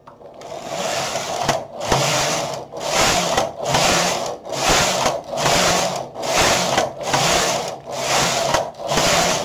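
A domestic knitting machine carriage is pushed back and forth across the needle bed, making a loud, rhythmic rasping swoosh about every second with short gaps at each turn.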